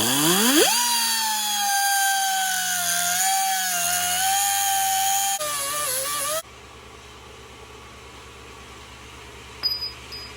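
A power tool spins up and whines loudly and steadily while cutting a metal pin for a 1970s Ford pickup's spare tire carrier lock, its pitch wavering slightly, then winds down and stops, leaving faint room noise.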